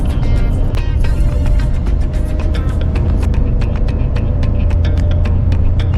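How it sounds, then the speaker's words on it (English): Nissan Magnite AMT compact SUV engine drones heavily from inside the cabin, a loud steady low throb with faint ticking texture, continuous and without speech. "the way the car engine makes the sound is very, very irritating"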